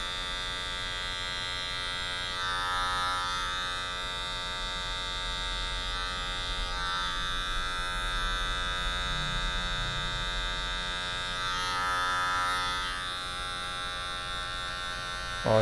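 An electric hair clipper buzzes steadily through a mid fade haircut, its loud constant hum barely changing pitch as it runs close and alone for the whole stretch.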